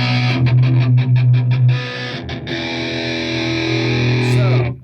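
Distorted electric guitar played through a Fender Mustang GT 100 amp set to a basic 90s stack, loud and close, with a run of short chugged chords giving way to a long sustained ringing chord.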